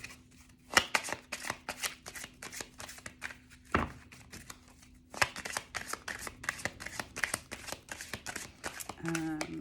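Tarot cards riffled and shuffled by hand in a rapid series of crisp, close flutters and taps with short pauses between bursts, while a voice speaks briefly.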